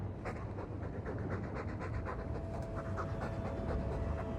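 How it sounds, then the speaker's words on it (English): A dog in the video game Dragon Age 2 pants steadily and close up, a fast rhythmic breathing that runs the whole time with no talk over it. "All that noisy dog breath, day in, day out."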